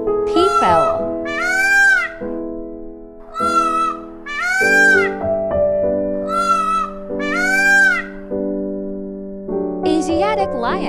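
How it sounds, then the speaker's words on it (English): Peafowl calling with loud, wailing honks, about five rising-falling cries in pairs, close and clear with short gaps between them. "Peafowl."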